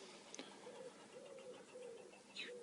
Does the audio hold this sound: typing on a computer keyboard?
no